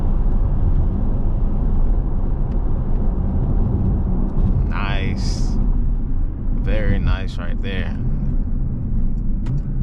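A 2024 Porsche Panamera 4S drives and slows down, its steady low engine and road rumble filling the cabin while someone talks over it.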